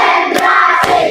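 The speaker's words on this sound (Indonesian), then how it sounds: "Tepuk siap belajar. Tepuk 1, tepuk 2, tepuk 3, tepuk 4," A fourth-grade class claps together in rhythm, giving two sharp, close claps about half a second apart over children's voices chanting in unison.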